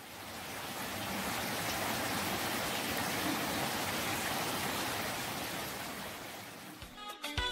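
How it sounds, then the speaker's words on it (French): Steady rain pours down on a morning on Réunion island, a dense, even hiss that holds for several seconds before a few sharper knocks and clatters break in at the end. "Le lendemain matin, nous nous réveillons à nouveau sous la pluie."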